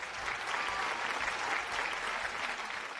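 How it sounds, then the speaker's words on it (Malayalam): Steady applause from an audience at a stage show, filling the whole stretch as continuous clapping with no voices over it. "കയ്യടി."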